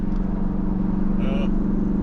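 A Hyundai car engine runs on nitrous on a dyno, holding a loud, steady, close droning roar throughout, with a brief higher tone rising over it midway.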